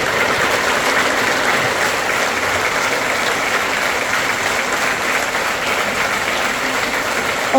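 An audience at a cultural event in Martinique applauds loudly, a dense, steady wash of clapping that continues without a break.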